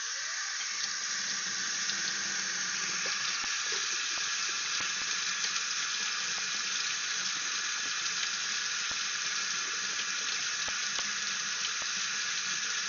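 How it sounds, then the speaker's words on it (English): Rock wool is rinsed under steadily running water from a tap, a constant hissing splash with a few faint knocks, moderately close, with no voices. "Let's rinse this rock wool."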